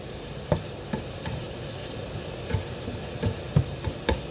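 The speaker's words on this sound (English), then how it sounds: "So I'm going to add in my kale, get that all mixed in." Chopped kale stirred into vegetables that have been sautéing in a pan: a soft, steady sizzle with scattered spoon scrapes and light knocks against the pan, close and fairly quiet.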